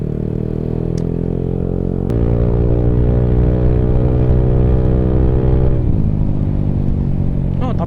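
A Yamaha Aerox scooter with a mostly stock engine drones steadily while riding, its tone rising as it accelerates and then dropping, loud and close throughout.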